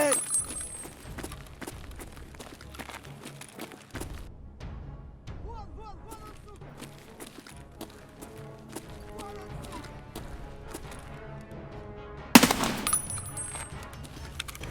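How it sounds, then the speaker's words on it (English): Suppressed gunfire in the video game Escape from Tarkov during a firefight on the Interchange map; rapid muffled shots in bursts with footsteps and movement sounds, and one sharp louder burst near the end. "Just when I think I'm safe, I hear suppressed shots in the back."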